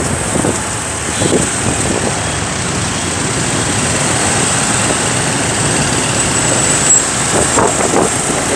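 Busy street traffic in Ho Chi Minh City, crowded with motorcycles, forms a loud, continuous roar of engines with passing vehicles swelling briefly above the steady drone.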